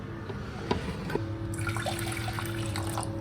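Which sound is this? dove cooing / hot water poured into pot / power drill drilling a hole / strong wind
hot water poured into pot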